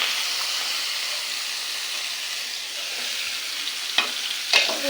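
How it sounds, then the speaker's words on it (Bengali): Onions and cumin seeds sizzling in hot oil in a kadai: a steady broad frying hiss throughout, with a couple of brief louder crackles near the end and no talking. "এখানে দুটো বড় সাইজের পেঁয়াজ নিয়েছি এদের থেকে দিয়ে দেবো তেলের উপর"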